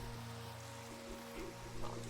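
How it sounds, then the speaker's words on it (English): Steady rain falling outdoors, a continuous, even hiss of drops on surfaces with a constant low hum underneath, alone with no voices. "Why do I hear raining sounds?"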